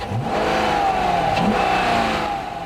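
A Hemi 5.7-litre V8 in a heavy 2005 car revs hard, giving a loud, sustained engine roar with a rising and falling pitch that stays close and constant throughout, with no talking.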